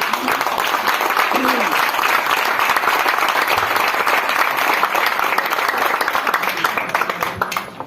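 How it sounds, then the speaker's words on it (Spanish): A church congregation applauding during a service, loud dense clapping filling the room, with a few indistinct voices mixed in before it tapers off at the end. "Pueden sentarse, no sin antes aplaudir a Dios."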